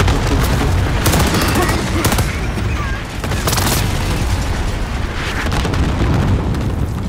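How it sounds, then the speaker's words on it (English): Airstrike in Call of Duty Warzone, a loud barrage of booming explosions mixed with rapid gunfire, dense and continuous with sharp blasts rising at intervals, while voices are faintly heard underneath. "Mark target for airstrike. Phoenix 3, strike inbound"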